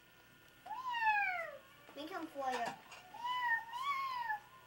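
A cat meows three times, rising and falling calls spaced over a few seconds, close and fairly clear, with children talking around it.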